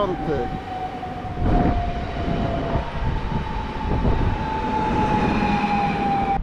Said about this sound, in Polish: nie lotniskowy to skład z Ciechanowa do Warszawy Zachodniej, peron 9